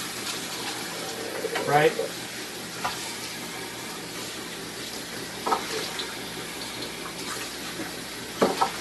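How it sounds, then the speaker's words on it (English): Water runs steadily from a sink tap while CPAP parts for a ResMed AirSense 10 are rinsed of soap, with occasional clinks and splashes and a brief spoken word. "we go to this side of the sink, and it's very important to get all the soap off."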